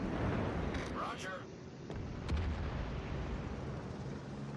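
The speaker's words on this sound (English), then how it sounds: "All stations requesting fire on the designated target." Artillery fire on a target in a video game, with dull booms and short cracks over a dense rumbling battle bed, while a voice talks over it.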